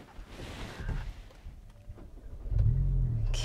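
A Hyundai i20 N starts up: a few clicks and rustles, then the engine catches and settles into a loud, close, rumbling idle.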